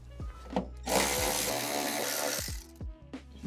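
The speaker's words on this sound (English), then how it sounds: "But let me undo these nuts first. These are 10 mils." Inside a Range Rover L322, a power tool whirs steadily for about a second and a half while undoing 10 mm nuts, set between short clicks and ratcheting taps, fairly close with no talking.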